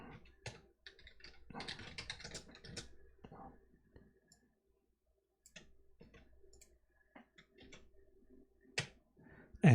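Code being typed on a computer keyboard, heard close as quick bursts of clicky keystrokes with pauses between runs, fairly quiet, with no speech.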